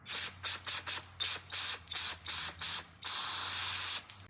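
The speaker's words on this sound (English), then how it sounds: "We can spray out our fuel filter." Rapid bursts of aerosol cleaner spray hiss in a quick rhythm through a snowblower fuel filter, then one longer continuous spray, close and fairly loud.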